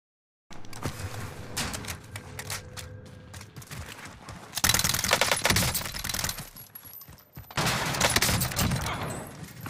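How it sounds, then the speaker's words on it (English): Rapid bursts of gunfire in a shooter video game, including Automaton and UZI fire, crackling in dense volleys that swell louder in two later stretches, with no talking. "You guys are shooting at each other"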